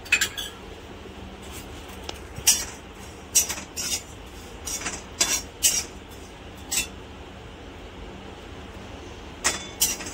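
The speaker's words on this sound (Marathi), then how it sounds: "आता हे जिरं चमचाभर हे पण भाजून घेऊ।" A spoonful of cumin seeds dry roasts in a pan on low heat for green chilli pickle, with a spoon stirring and scraping in scattered, close metallic clinks over a quiet background.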